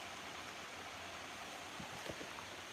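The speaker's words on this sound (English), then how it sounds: "There's our waterfall pool." Steady broadband rush of water pouring into a waterfall pool on a forest creek swollen by recent floods, constant and moderately close, with no voices.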